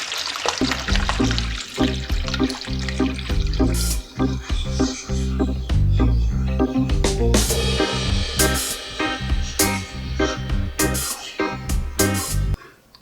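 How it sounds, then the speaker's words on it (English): A gallon of filtered water poured into a container for a Jamaican rum punch, a continuous splashing and gurgling stream lasting several seconds with brief pauses, close by. "Going to add 1 gallon of filtered water to the container."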